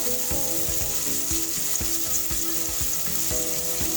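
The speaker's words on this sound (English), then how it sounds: "Add our diced onions. So we're going to saute this one till they turn golden brown." Diced onions sizzle steadily in hot oil in a pan for Nigerian jollof rice, a loud continuous frying hiss with faint stirring scrapes and no voices.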